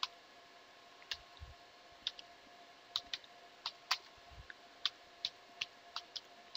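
A terminal command is typed on a computer keyboard: a quiet, uneven run of separate key clicks spread over several seconds, with a couple of soft low thumps and no voices.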